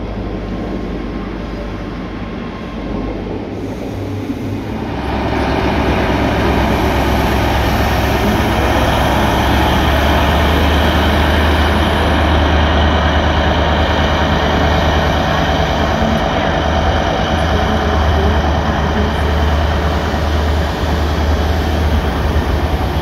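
Trains at Haymarket Station, a loud, steady rumble of a train passing close by that swells a few seconds in and then holds, with a high metallic hiss above it.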